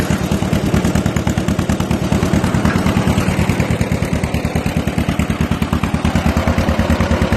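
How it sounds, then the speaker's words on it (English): A John Deere M tractor with a 3-point hitch running with its PTO engaged, a loud, close, rapid and evenly repeating engine chug that keeps a steady rhythm throughout, with no talking. "There your PTO is working good"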